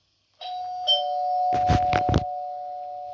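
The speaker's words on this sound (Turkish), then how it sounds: "zil çalışıyor" An electronic apartment doorbell rings with a sustained tone and a quick burst of chiming notes, close by, in an otherwise quiet room.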